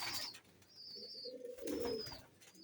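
Pigeons coo softly in low, rolling phrases, with a few faint chirps above, close by and without any talk.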